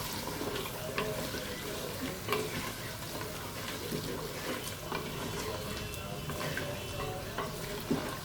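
Mutton stirred and mixed with cumin, turmeric, black pepper, salt and green chillies in a hot pan, a steady close sizzle with scraping stir strokes and clinks throughout.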